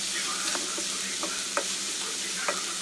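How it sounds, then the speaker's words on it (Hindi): Steady hiss of frying in a non-stick pan for a tomato omelet, a constant sizzle with a few light scraping ticks of stirring, moderately quiet and without voices. "और इसको हम ट्रांसपेरेंट होने तक इसको फ्राई करेंगे।"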